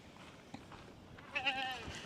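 Miss Ruby the goat gives a single wavering bleat near the end, moderately close and clear above a low outdoor hum on a warm day among dogs. No one speaks.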